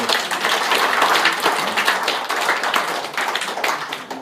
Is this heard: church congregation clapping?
yes